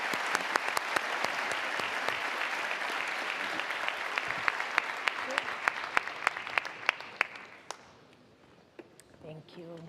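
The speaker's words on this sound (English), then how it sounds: "A big applause for pleasure." Sustained applause from a conference audience at an international banking event, a dense wash of clapping with sharp individual claps standing out, fading and thinning out toward the end as a few stray claps remain.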